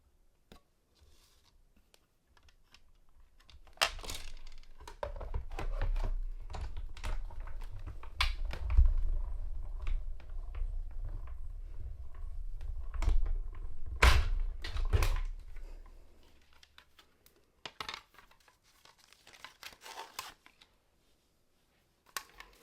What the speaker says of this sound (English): I am going to just die cut this circle with my die cut machine